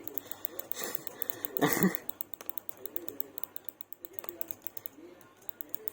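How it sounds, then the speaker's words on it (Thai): Rapid, fairly quiet keyboard typing with crisp clicks in an uneven rhythm, close by, broken by a brief burst of breathy noise near the start. "ถ้าได้ยินก็เสียงคลิปมอสหรือเสียง คีย์บอร์ดก็ขอโทษด้วยนะครับ"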